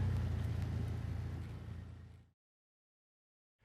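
A car engine rumbles steadily up close for a little over two seconds, then cuts off abruptly into silence, with no talking.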